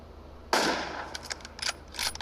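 One sharp, loud rifle shot rings out in PUBG on the Livik map, followed by faint clicks and small metallic handling sounds.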